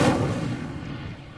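A fire spell cast in the Hogwarts Legacy video game, a single sudden loud whooshing burst that decays into a crackling rumble over about a second.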